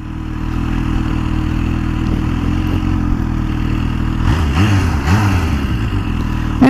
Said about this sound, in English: Engine's got a very muted note to it, actually. It's very quiet.